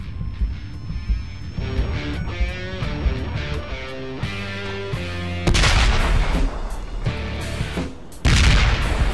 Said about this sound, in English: Oh shit, he has, they have their own rockets.